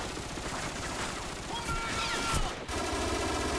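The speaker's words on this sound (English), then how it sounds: "There I get killed with a mounted M249 saw" Sustained mounted M249 SAW machine gun fire in Call of Duty: Modern Warfare, a dense rapid rattle of shots mixed with other battle noise, loud and continuous, with a brief cut near the end before the din resumes.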